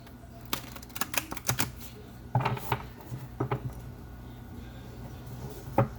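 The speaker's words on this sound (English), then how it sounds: "So one more shuffle." Tarot cards are shuffled by hand, making faint scattered clicks and brief riffling bursts that come in irregular clusters, quiet and close.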